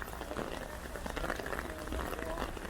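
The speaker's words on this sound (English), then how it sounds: "And it is pouring now." Heavy rain pours in a dense, steady hiss on a Toronto street, with faint traffic and street noise beneath the downpour.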